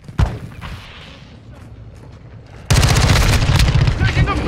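Call of Duty Modern Warfare 2 ground war gunfire: a few scattered shots over quiet background, then a sudden loud burst of dense, rapid automatic fire and blasts.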